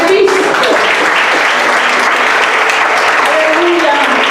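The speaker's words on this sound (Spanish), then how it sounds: "Denle un aplauso a Cristo." A church congregation breaks into loud, continuous applause during an Easter sermon, the clapping filling the room while faint voices and tones sit underneath.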